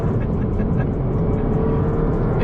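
A 2014 Volkswagen Golf GTI with a 2-litre engine revs hard through a corner on a track, producing a close, continuous engine roar at steady loudness.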